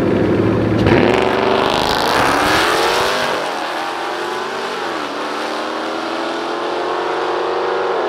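A supercharged 5.5-litre Mercedes CLS 55 drag races a Kia Stinger at a dragstrip, with loud engines roaring through rising revs and gear changes, then holding a steady drone as the cars pull away.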